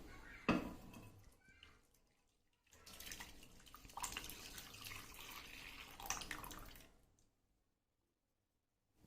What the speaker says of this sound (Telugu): పాలు ఇందులో వేస్తున్నాను.